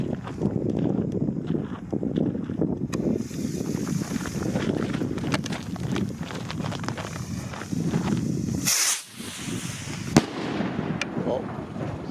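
Homemade fireworks go off outdoors in a series of crackling pops and bursts with wind buffeting the microphone, plus one sharp bang near the end, while people talk in the background.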